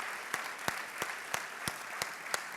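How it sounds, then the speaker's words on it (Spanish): Applause from a seated audience at a satire literary event honouring a writer, a steady wash of clapping with a few sharper individual claps standing out at regular intervals, fairly faint and even throughout. "un aplauso para Marta Sanz, que está brillante como siempre, por favor"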